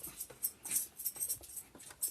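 A puppy dog whimpers and grunts faintly in the background while settling into a bed, with repeated soft, breathy squeaks coming every fraction of a second.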